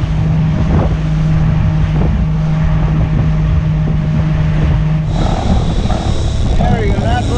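A fishing boat trolls at high speed, around 12 to 15 knots, over a deep reef edge for bonito, its engine droning steadily with strong wind and water noise, then shifting tone partway through as the roar changes.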